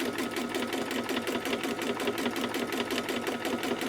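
A sewing machine running steadily during free-motion micro quilting, its needle hammering in a fast, even rhythm, loud and close with no talking.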